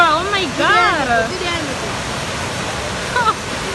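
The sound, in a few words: flooded river rushing water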